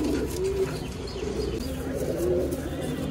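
Pigeons cooing in a rooftop coop, soft low repeated coos close by over a steady background hum, with a few faint chirps mixed in.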